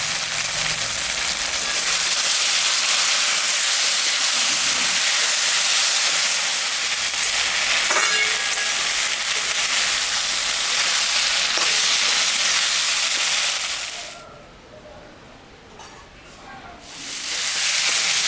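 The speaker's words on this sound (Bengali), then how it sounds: "মশলাটা ভাজা হয়ে গেছে।" Spices with tomato and green chillies sizzle loudly in a pan for a rohu fish head curry, a steady close hiss that briefly drops away near the end as the lid is lifted, then returns.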